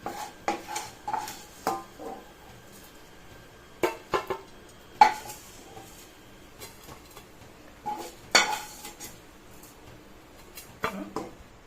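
Roasted ingredients for a capsicum thuvayal being scraped from a kadai onto a plate, giving scattered clinks and scrapes of a metal spoon against the pan in short bursts, close and fairly quiet.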